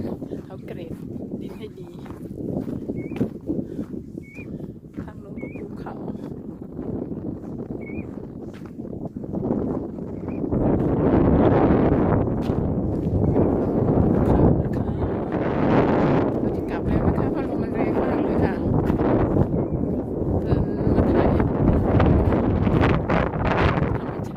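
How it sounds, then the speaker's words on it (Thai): Strong cold wind batters the microphone outdoors on the coast of Iceland, a heavy continuous rumble that gusts louder partway through while someone talks over it. "หนาวจริงๆอุ้ยลมแรงค่ะ"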